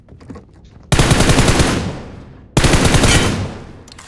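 Automatic gunfire in the BGMI mobile battle game, with two loud, rapid bursts of shots, each starting sharply and trailing off.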